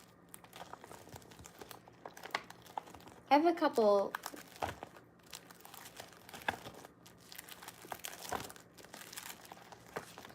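A picture of a waterfall mermaid in a plastic sleeve is handled, giving about a second of close, loud crinkling while a person talks quietly before and after.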